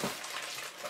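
Water is poured into a bottle while making a sea in a bottle, a brief close gush of running liquid lasting under a second.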